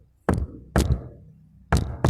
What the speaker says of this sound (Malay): Ketuk pakai ni sikit.